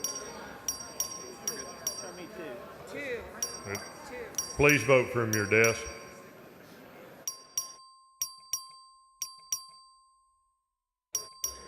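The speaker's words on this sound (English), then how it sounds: "The clerk will ring the bell." A bell rings repeatedly for a record vote in a legislative chamber. Sharp, evenly spaced ding strikes cut through a voice talking, then continue alone with their tails ringing out in the quiet.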